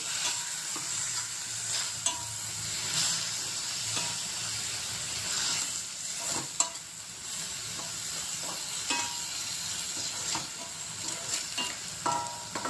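Chopped spinach fries in oil in a pan for palak dal, giving a soft, steady sizzle and hiss with frequent light stirring scrapes and clicks.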